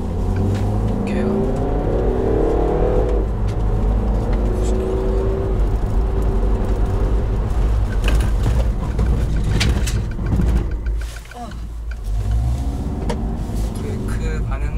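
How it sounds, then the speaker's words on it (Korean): Peugeot 308 GT driving on a road during a hard brake test, with a steady engine and road rumble that dips sharply near the end as the car stops abruptly, then resumes; a voice talks over it. "브레이크 테스트를 한번 해보겠습니다"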